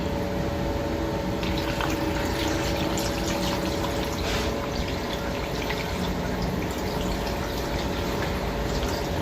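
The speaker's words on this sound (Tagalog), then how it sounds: "Tapos lalagyan ko ng tubig." Water is poured into a cooking pot of fish and vinegar, a loud, close, continuous gushing fill that runs steadily for about nine seconds with no talking.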